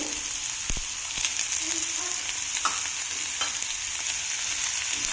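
Carrot, capsicum and beans stir-fry on a tawa for pulao, a steady close sizzle with occasional scraping knocks of the spatula against the pan.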